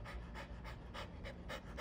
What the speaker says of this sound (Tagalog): Ala, ang laki-laking aso.